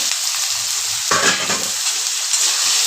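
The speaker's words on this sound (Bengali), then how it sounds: "আলুটা আমি লাল লাল করে ভেজে নেব।" Potatoes frying in a pan with a constant close sizzle, broken by a brief stirring scrape partway through.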